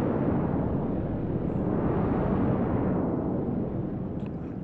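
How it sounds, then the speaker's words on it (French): A spaceship explosion in the space game Star Citizen, heard as a long, dense, rumbling blast that sustains at high level for several seconds and then slowly fades, with no voices. "Voilà, là il va tomber, il va exploser normalement. Voilà, oh la belle explosion."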